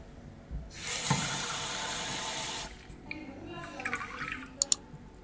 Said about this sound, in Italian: ovviamente si deve riempire l'acqua